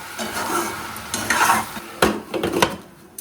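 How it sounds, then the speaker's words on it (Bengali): A spoon stirs a simmering Bengali curry of spinach stems with fried lentil dumplings (bori) in a pot, making soft scraping strokes over a faint sizzle, with a few sharper clinks against the pan near the end and no talking. "ভেজে রাখা বড়ি হালকা নাড়াচাড়া করে আবার ঢাকা চাপা দিয়ে দেবো"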